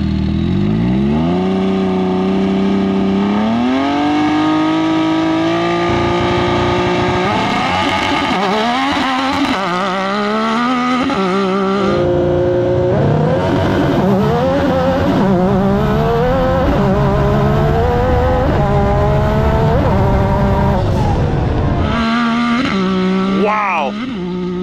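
A Yamaha YXZ side-by-side launches hard from a standstill, its engine screaming up through rising revs with quick shifts and repeated surges, loud and close for the whole run.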